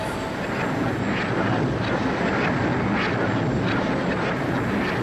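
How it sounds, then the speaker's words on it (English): A scrapyard grabber crane from Thomas & Friends moves overhead, giving a steady, continuous mechanical drone and whir that holds evenly throughout, with no voices. "The grabber began to move."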